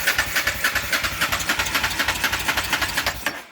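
A Honda Deauville 650 motorcycle engine cranks over and over without catching, a steady rapid starter-motor chug repeating at close range for several seconds before cutting off.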